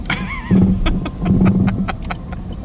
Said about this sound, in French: Un drôle de bruit ta voiture quand même.